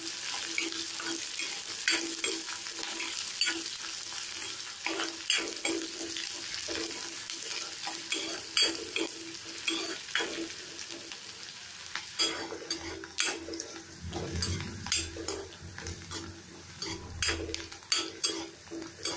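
Sliced onions and two large green chillies sauté in a pan for an eggplant gravy, with a continuous sizzle and repeated scraping and stirring clatter of a spatula against metal, getting busier toward the end; no talking.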